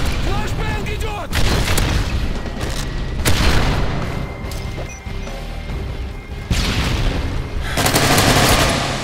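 Flashbang grenades and gunfire crack through a Call of Duty MW3 Search and Destroy round, loud broadband booms near 1.3, 3.3 and 6.5 seconds over steady background fire, with a voice shouting in between.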